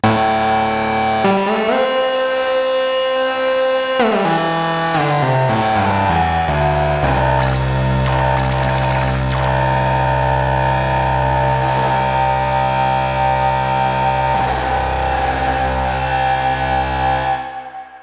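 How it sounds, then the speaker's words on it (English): A bright, sweeping synthesizer tone with harsh, tearing harmonics from oscillator sync on an IK Multimedia UNO Synth Pro X, its pitch stepping and gliding in a sustained line that rings loud and steady with no talk. "So therefore I programmed a sound which makes a lot of use of the sync function."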